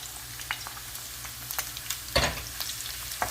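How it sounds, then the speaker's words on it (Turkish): Onion and lamb frying in a pan, a steady close sizzle with occasional crackles and stirring scrapes, no voices. "Soğanımı da etimle birlikte 1-2 dakika kavrulmasını bekliyorum."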